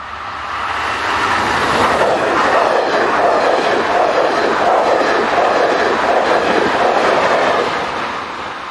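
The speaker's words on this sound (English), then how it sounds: "we see some of the other types of traction that ply the line, in the shape of Class 27 electric locomotive" A Class 27 electric locomotive hauls a train past near the edge of Ghent, a loud steady rushing roar with faint rail clatter that swells in and fades out over several seconds.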